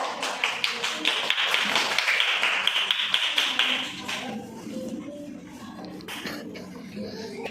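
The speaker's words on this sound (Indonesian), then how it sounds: "kasih aplaus untuk tangan untuk kelompok 5 ya" A classroom of students applauds a group together, a dense burst of clapping for about four seconds that then breaks off into quieter room noise and shuffling.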